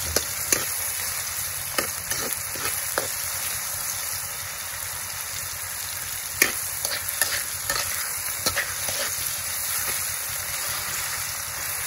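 Tomatoes, onion and garlic sautéing in a pan, a steady close sizzle broken by intermittent spatula scrapes and taps, no voices.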